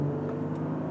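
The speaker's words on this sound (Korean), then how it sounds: "가속 페달을 이렇게 꾹 밟으면" Strong diesel engine of a Jeep Grand Cherokee pulling under throttle on the road, a steady close low drone with a faint rising whir and no talk.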